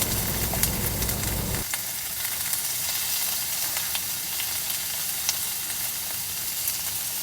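Beef for adobong sitaw sautéing in a pan with garlic and onion, giving a steady crackling sizzle with a lower bubbling layer at first, then a bright, even hiss with small pops and occasional stirring scrapes; no talking.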